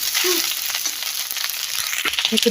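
Food frying in a pan with a little salt while being stirred, a loud continuous close sizzle with intermittent scraping and shuffling from the stirring.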